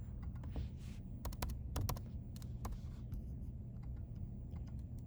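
Computer keyboard keys clicking in a quiet room while code is copied, a few scattered soft taps followed by a short cluster of keystrokes, faint and close.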